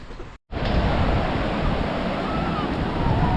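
Ocean waves break on the beach at Rabat, Morocco, making a loud, steady roar of surf that fills the whole clip after a brief dropout near the start, with wind buffeting the microphone.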